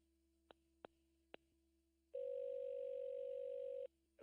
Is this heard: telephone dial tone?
yes